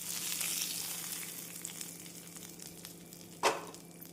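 Tempering spices crackle in hot oil in a pan for curd rice, making a quiet steady sizzle with a single sharp louder pop or scrape late on.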